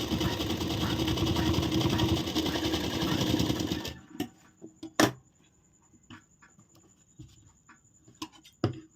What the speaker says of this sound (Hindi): अब हम इसको कुछ इस तरह रखेंगे और यहाँ से हम इसको सिल देंगे